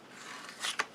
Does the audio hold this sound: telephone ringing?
no